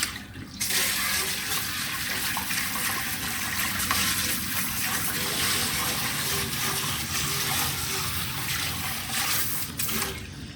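Water from a garden hose rinsing a deer skull with antlers, a steady broadband gushing spray that runs continuously at moderate level from start to end, with no talking.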